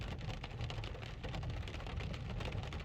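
Rain falls steadily in an olive grove on the outskirts of Jerusalem, a constant close hiss and patter with a low rumbling undertone, no voices.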